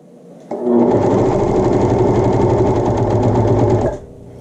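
A home overlock sewing machine runs steadily for about three and a half seconds while being rethreaded, a loud, close, continuous whirring stitch that starts and stops abruptly.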